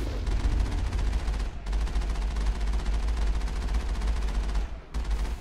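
Rapid, continuous heavy main-cannon fire in the video game Mass Effect, with a deep thumping low end, nearly unbroken bursts pausing briefly twice before resuming.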